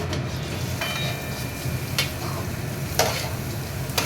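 Chopped onion, with tomato, fries in hot oil in a kadai: a constant close sizzle punctuated by a few sharp spatula scrapes and clacks against the pan, and no talking.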